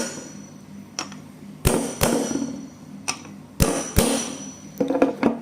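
Sharp metallic taps ring out on a Zontes 350-class scooter's CVT auto clutch during assembly, about nine close, irregular strikes, some in quick pairs, with short ringing decays between them.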